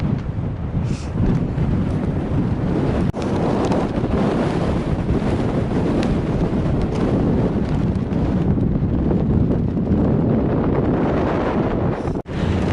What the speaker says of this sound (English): It's a really strong wind.